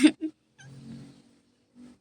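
A hen gives a few short, separate clucks with silent gaps between them, fairly close and otherwise quiet.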